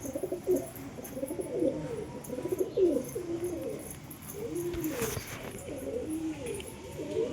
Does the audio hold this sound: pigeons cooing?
yes